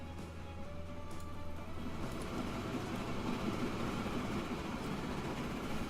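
A train rolls along in the video game Transport Fever, a steady rumbling rail sound that swells after the first couple of seconds and carries on evenly, with no voices.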